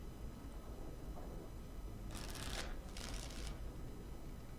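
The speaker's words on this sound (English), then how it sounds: "Actually, I'll shuffle the cards." Cards shuffled in a tavern card game in the fantasy video game Dragon Age: Origins, two quick riffling bursts over a steady low background hum, fairly close and moderately loud, with no talk.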